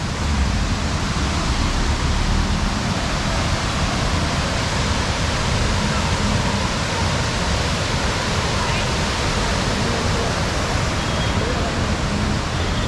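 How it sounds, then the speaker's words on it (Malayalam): Steady, loud roar of a waterfall fills the whole stretch without pause, a dense broadband rush of falling water close by. "മഴയല്ലടാ, വെള്ളച്ചാട്ടം."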